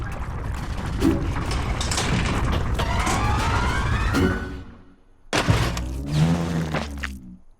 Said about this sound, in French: un muffin explosé du chef